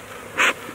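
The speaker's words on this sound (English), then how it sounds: "Ooh, these are some aggressive little bees." Honey bees from a swarm being moved into a hive in an apiary, a single brief buzz passing close by against quiet outdoor background hiss.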